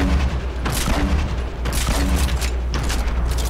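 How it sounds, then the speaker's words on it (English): Dense gunfire rattles through a Fortnite match, with loud, continuous bursts of shots and booms layered over a low rumble and no pauses. "I'm getting shot at"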